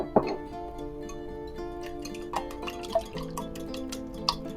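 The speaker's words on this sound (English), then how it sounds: "let's go ahead and mix that up and beat up our eggs like this" Eggs are beaten in a bowl with parsley flakes, giving light, irregular clinks and ticks of a utensil against the bowl under a faint background hum.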